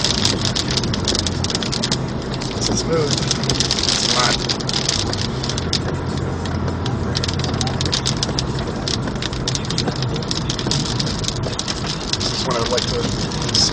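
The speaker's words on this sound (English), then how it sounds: "Here it comes. It's raining." Heavy rain from the Walaka storm pounds a moving car in a steady, dense roar over a low engine hum, with brief talk inside the car.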